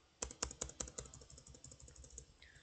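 Keys clatter on a computer keyboard as a website title is typed in, a quick run of close, crisp keystrokes that slows toward the end, with no voice over it.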